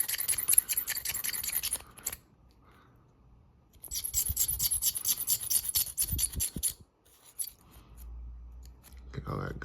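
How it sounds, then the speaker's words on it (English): A small dental pick scrapes rust and gunk from inside an old Frontier Double Eagle handgun, giving close, gritty scratching in two bursts separated by a quiet gap, with faint low voice sounds. "I'm just gonna take a little dental pick. I'm gonna scrape it all out, get it nice and cleaned up"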